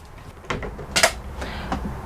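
A drawer slides open in the kitchen cabinet of a Rapido 696F camper, giving a few close wooden knocks and a short rolling scrape, alone in a quiet interior.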